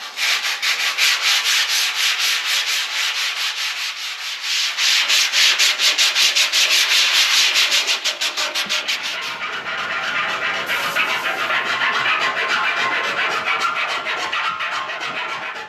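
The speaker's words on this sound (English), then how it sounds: "now I'm just going to use some sandpaper to dull the paint down so our new paint will stick to it" Sandpaper rubs steadily across a painted steel barrel, a continuous loud rasping scrape that keeps going for about fifteen seconds, with no talking.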